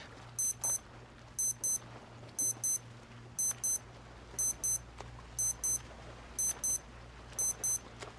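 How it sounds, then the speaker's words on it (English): A Casio A168 digital watch alarm beeps in regular double bursts, repeating about once per second, very loud, sharp and high-pitched against a quiet background. "The alarm on this thing is insanely loud."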